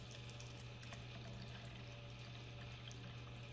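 Cool tap water pours steadily into a container while measuring 300 millilitres for an aquarium CO2 system, a constant close rushing splash with a low hum beneath it.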